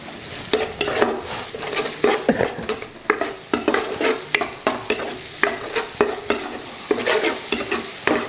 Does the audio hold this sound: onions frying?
yes